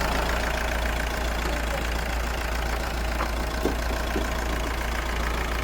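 A Mahindra XUV 3XO's 1.5-litre diesel engine idles with a steady, even low drone that holds without change throughout, heard up close.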